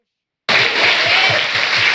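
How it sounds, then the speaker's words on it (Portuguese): A church congregation bursts into loud, sustained applause during a weekday service. It starts abruptly after a brief silence and continues as a dense, even roar of clapping. "pode aplaudir o Senhor"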